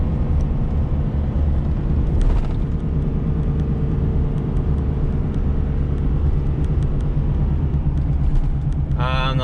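A 2021 Ford F450 truck climbs a hill as its transmission downshifts on its own, with a heavy, continuous low engine rumble and drone heard from inside the cab.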